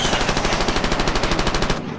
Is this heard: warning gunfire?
yes